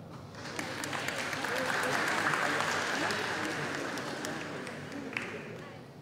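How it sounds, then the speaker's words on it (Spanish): Audience applause welcoming a university professor to the stage at a youth parliament inauguration, a broad, steady wash of clapping from a large hall that swells and then eases, fairly distant. "a quien recibimos con fuertes palmas"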